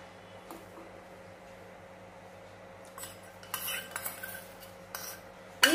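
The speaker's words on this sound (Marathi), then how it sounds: "तर आता आपल्याला 5 ते 7 मिनिटं हे असं ढवळतच राहायचंय" Cocoa powder and cornflour mixture is stirred into hot milk in a pan. A quiet background hum holds for about three seconds, then a spoon scrapes and clinks irregularly against the pan, growing slightly louder toward the end.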